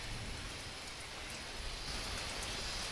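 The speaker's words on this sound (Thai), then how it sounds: "ฝนตกบรรยากาศดีนะคะ" Steady rain pours down in a continuous dense hiss, filling the whole stretch evenly and fairly loud, with no voices or other sounds standing out.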